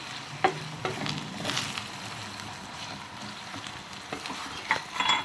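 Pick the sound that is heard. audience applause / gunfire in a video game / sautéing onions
sautéing onions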